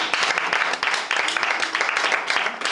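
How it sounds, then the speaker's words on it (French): A church congregation applauds in praise: continuous, dense clapping from many hands, loud and close, with no talking over it. "Acclamons pour le Seigneur."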